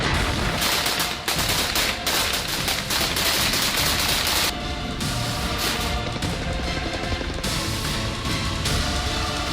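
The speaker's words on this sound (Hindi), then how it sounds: "दिन रात गोलीबारी हो रही है" Dense, continuous gunfire rattles in a war zone in Mariupol, Ukraine, with loud overlapping bursts of automatic fire and shots packed close together throughout.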